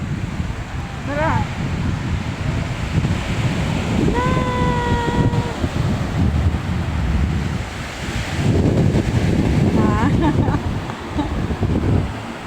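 Sea waves washing onto a beach amid strong wind buffeting the microphone, a continuous roar of surf with gusts, while people talk and call out nearby.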